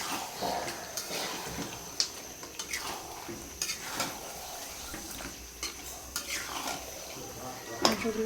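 Goat meat being stirred with spices in a metal pot for a Bengali curry: repeated scraping and clinking of a spoon against the pot, a dozen or so strokes at a steady close pace, with faint background hum.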